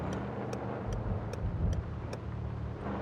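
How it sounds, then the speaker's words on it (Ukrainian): Turn signal in Car Parking Multiplayer, in a BMW E34, ticking steadily at about two clicks per second over a constant low engine hum, with no talk. "поворотники зараз виключу"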